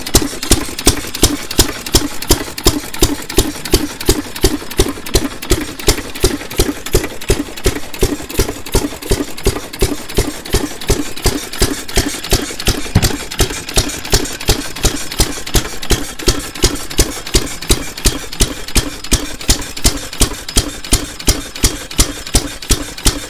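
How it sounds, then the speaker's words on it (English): A 1914 Fairbanks H type open crank engine of 2.5 horsepower, igniter fired with a petrol/paraffin carburettor and governor, runs steadily on its own, a close, loud and even rapid chuffing beat that holds a regular rhythm throughout. "petrol paraffin throttle and governed open crank engine"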